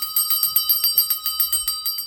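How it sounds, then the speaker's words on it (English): Small bells jingle in a rapid, uneven rhythm of bright metallic rings, close and fairly loud, as they fall and keep ringing for a couple of seconds with no voices. "The bells are dropping. The bells are ringing."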